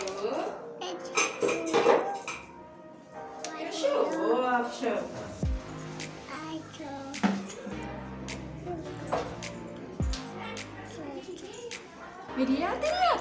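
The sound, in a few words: washing dirty dishes and pots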